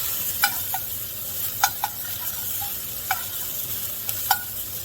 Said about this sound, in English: And I'm going to give them another stir.